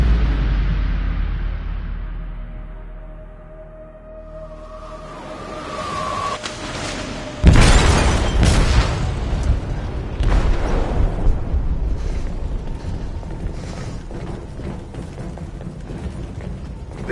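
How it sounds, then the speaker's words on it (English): An explosive goes off in a ship's hold in Detroit: Become Human: a quiet rumbling buildup, then a sudden loud blast partway through, followed by a long roaring, crackling rumble as the ship shakes and debris sounds continue. "They detonated an explosive in the hold."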